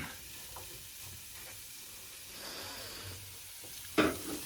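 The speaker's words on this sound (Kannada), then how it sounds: "ಒಟ್ಟಿಗೆ ಫ್ರೈ ಮಾಡ್ತಾನೆ ನಾನು" Ingredients for a Mangalore-style green chicken curry fry in a pan with a soft, steady sizzle and occasional stirring scrapes, ending in a brief louder clatter.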